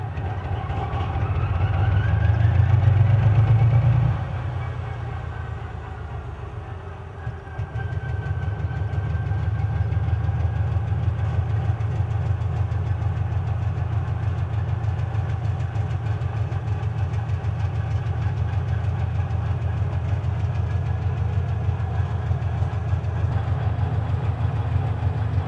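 A 3TE10U diesel locomotive with a 10-cylinder, 3,000-horsepower engine cold starts: a loud, deep rumble surges and fades, then settles into a steady, heavy idle with rhythmic knocking pulses throughout.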